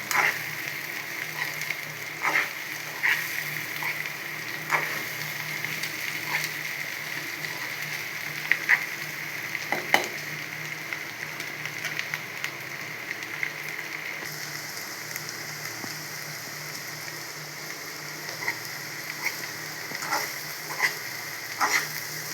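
Taro root (colocasia) slices fry crisp in a pan of oil, giving a continuous soft sizzle with scattered pops and occasional stirring clinks, fairly close and alone without talk.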